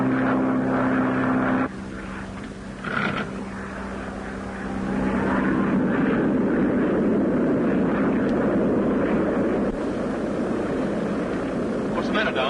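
A propeller airplane from the 1932 film Klondike drones steadily as ice builds on its wings, a loud continuous engine roar that briefly dips early on, with voices talking over it.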